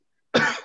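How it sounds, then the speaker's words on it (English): A single short wheezing, phlegmy cough, one abrupt close burst that quickly fades. "Wheezes a phlegmy cough."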